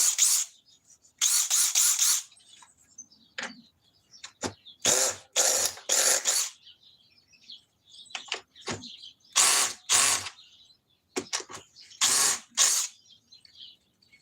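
A power drill whirs in repeated short, loud bursts, close by, with brief pauses between each run.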